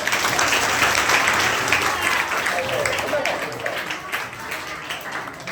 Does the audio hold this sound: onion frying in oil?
no